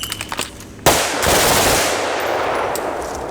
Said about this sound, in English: From the high ready, one shot.